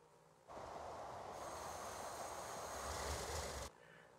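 Diesel cargo trains run in the Transport Fever 2 video game, a steady rumbling roll with a broad, continuous wash of noise that holds for about three seconds and then cuts off abruptly.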